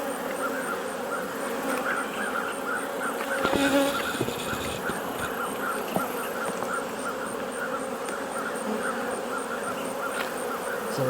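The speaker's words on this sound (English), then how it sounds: "It's a lot of bees" Honey bees hum in a continuous buzzing drone over an open beehive during an October inspection, steady and moderately close, with a brief louder rustle partway through and no talk.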